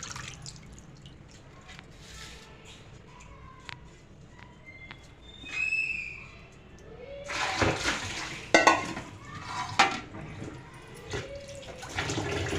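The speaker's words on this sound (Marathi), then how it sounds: "तर आपण स्वच्छ अशी तीन ते चार वेळा धुवून घ्यायचे बघा" Food being rinsed in water several times in a home Maharashtrian kitchen: scattered drips and small splashes at first, then louder sloshing, swirling and clattering against a vessel in irregular bursts, no speech.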